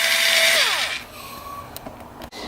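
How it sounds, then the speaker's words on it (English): A Makita electric screwdriver whines at high speed and then spins down, its pitch falling as it slows, loud and close, followed by a few light clicks and handling noises. "Also, I got this Makita electric screwdriver."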